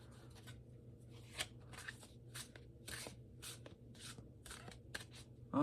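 Soft, rhythmic bursts of a tarot deck being shuffled, each a brief papery swish repeating about twice a second, close and quiet.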